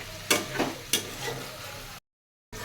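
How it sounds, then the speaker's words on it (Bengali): Young jackfruit pieces being sautéed in a pan, a low sizzle with a few distinct scraping stirs close by, then a short gap of silence. "এঁচড়গুলো দিয়েছি, দিয়ে এখন ভালো করে কষবো, কষে তারপরে জল দেবো।"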